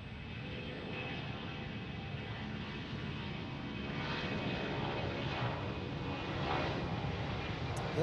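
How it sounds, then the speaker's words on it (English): Airliner jet engines roar at Tampa airport, a broad sustained rush heard from a distance, steady and slowly swelling. "Listen to those engines roar."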